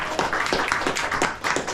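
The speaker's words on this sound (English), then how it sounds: "give yourselves a round of applause" A small group gives themselves a round of applause after finishing a crossword, a short burst of brisk, close claps in a quick irregular rhythm with a few distinct hand strikes.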